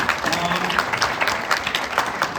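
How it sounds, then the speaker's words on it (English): A brief round of applause from attendees at a meeting, a moderate, fairly steady clatter of many hands with some voices mixed in. "If you want to give them a round of applause."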